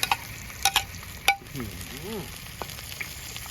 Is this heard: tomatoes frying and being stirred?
yes